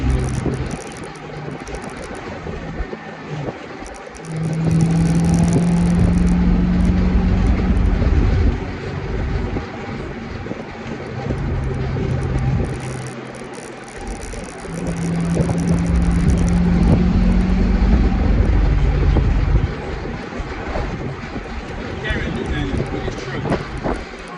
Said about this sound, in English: If every gear I go in, the car just gonna go.